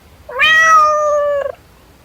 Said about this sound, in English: meowed at him